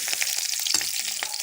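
Bay leaf and green chili frying in hot oil while being stirred, a steady bright sizzle with occasional crackles and soft stirring scrapes, close and continuous with no talking.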